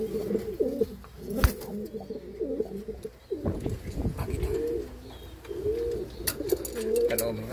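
Pigeons coo repeatedly in a loft of Japanese-breed birds, low rounded calls rising and falling close by, with occasional flutters and knocks and brief faint voices in the background.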